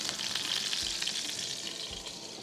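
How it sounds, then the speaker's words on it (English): Mushrooms cook in a covered pan with a steady, soft sizzle and faint crackles throughout, with no voices. "I'm gonna keep my senses going for sizzles and pops just to get that temperature right"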